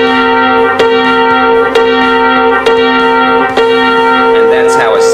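Sustained keyboard tones sounding a fifth interval, struck about four times at an even pace, each attack ringing into the next; clear, close and alone.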